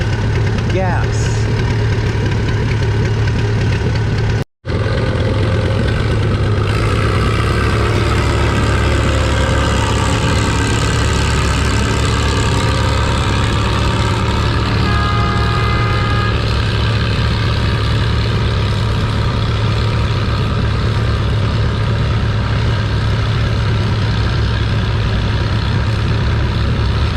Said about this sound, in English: WD-45 backing up, getting ready to go.